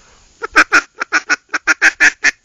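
Foiles Timber Rattler duck call imitating duck quacks: a quick series of about eleven loud, nasal quacks in uneven bursts, close up with no talk.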